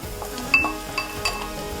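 Potatoes go into a hot pan for Turkish gözleme filling, giving a soft sizzle under a few sharp clinks and scrapes of a metal utensil against the pan.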